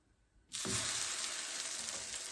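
Egg-dipped waffles dropped into a hot pan burst into a loud, steady sizzle of frying that starts abruptly and holds close and constant.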